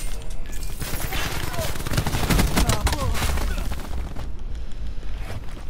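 Dense, loud Call of Duty Black Ops 4 gunfire from League play, rapid bursts and booms packed together close up, with a player's voice talking over the shooting.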